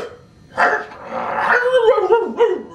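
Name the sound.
person imitating animal language of wolves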